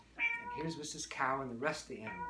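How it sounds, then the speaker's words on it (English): A cat's meows sound over and between a man's speech during a children's magic show, several drawn-out cries close and clear. "that's the sound of the cat"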